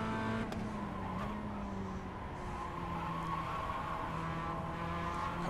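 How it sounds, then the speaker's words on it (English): A Mazda MX-5 in iRacing slides around Oschersleben, its engine droning steadily with a tonal hum and hiss of tyre scrub throughout, close and continuous with no pauses. "Car's doing a lot of sliding"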